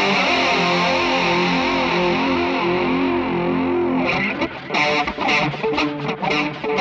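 Electric guitar through high-gain Sir Riot distortion with chorus, delay and reverb, 1980s rack-style tone: a long sustained shimmering chord rings out, then choppy palm-muted chugs follow, loud and alone.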